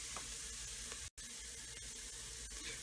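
Onions fry and brown in a pan, giving a steady, close, broadband sizzle that barely changes, with one brief dropout partway through.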